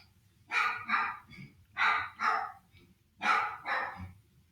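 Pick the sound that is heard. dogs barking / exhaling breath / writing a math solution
dogs barking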